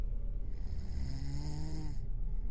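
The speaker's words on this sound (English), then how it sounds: "seconds later, his snoring returned." A man snores in a single long, rasping inhaled snore, close and steady over a low rumbling background.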